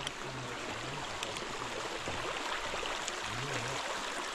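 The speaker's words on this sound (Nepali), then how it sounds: "खोला भयो" A river flows past the Godawari cremation ghat at night, making a continuous, even rushing wash with no breaks, with faint low tonal hums beneath.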